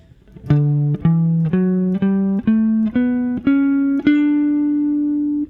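A guitar plays a rising major scale in one position, eight clear notes picked one after another at an even pace, the last ringing out longer.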